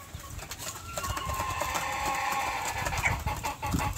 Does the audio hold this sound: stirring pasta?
no